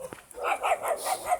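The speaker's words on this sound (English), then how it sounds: "These dogs again." Several dogs bark outdoors on a rainy walk, a quick run of about six yappy barks in steady succession at moderate distance, with no talk over them.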